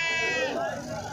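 A single goat gives one close, loud, wavering bleat at a small livestock market in Hasilpur, lasting about a second.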